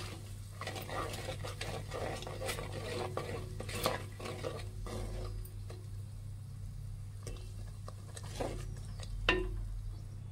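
Fish curry masala stirred and mixed in a pan for chepala pulusu, soft sizzle under rhythmic spoon scrapes and light clinks against metal, close but fairly quiet, with a steady low hum beneath.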